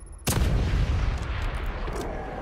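A big explosion in the horror video game The Evil Within 2 hits as a sudden loud boom, then rolls on as a dense rumbling roar with debris-like crackle fading slowly.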